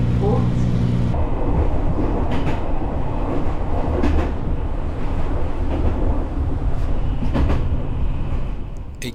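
A Fujikyu Railway commuter train runs on the line between Kawaguchiko and Fujikyu Highland, heard as a loud rumble of the wheels with rhythmic clickety-clack over rail joints. A short tonal hum fades early on, and a brief voice is heard.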